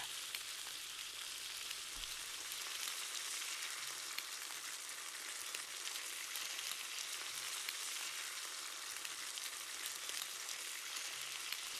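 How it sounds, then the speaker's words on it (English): Rinsed, salted food frying in a pan, a faint but continuous crackling sizzle with fine popping that stays even throughout. "and now we fry."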